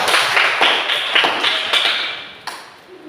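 A classroom of students claps in unison, sharp rhythmic bursts landing about every quarter second, loud and close, then tapering off into a last few scattered claps.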